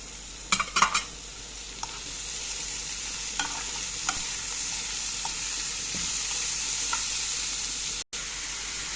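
Minced meat sizzles steadily in a pan with softened peppers and golden onion for spaghetti with meat sauce, with a few sharp spoon scrapes and clinks near the start while it is stirred, then an even frying hiss.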